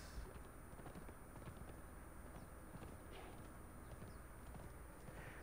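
In the video game Conan Exiles, a horse gallops with quick, soft clip-clopping hoofbeats that keep a steady running rhythm at low volume over faint background ambience.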